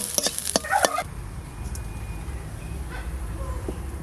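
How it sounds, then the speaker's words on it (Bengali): Young kumol vine shoots sizzle and are stirred in a frying pan, with a few sharp spatula scrapes at the start, then a steady low frying hiss close by. "এবার নাড়া"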